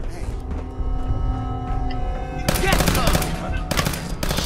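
Gunfire from the Fallout 4 video game: a sustained burst of rapid automatic shots rattles loud and close over the game's tonal background, then stops and resumes after a brief gap.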